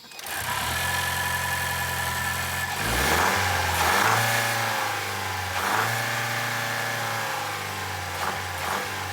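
A Toyota Land Cruiser 250 engine drones and whines close by, its pitch rising and falling as it revs through several surges, with a clattery, moaning tone beneath a steady mechanical hum.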